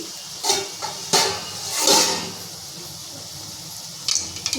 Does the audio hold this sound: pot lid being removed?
yes